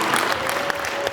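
An audience at an MC's show applauds in a continuous, fairly loud patter of many hands, with a steady tone running faintly underneath.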